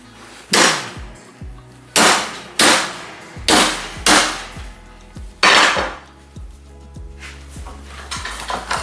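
A hammer strikes a hot, rusty horseshoe on metal in a series of loud, ringing blows spaced about a second apart, each with a sharp attack and a short metallic decay, and lighter taps toward the end.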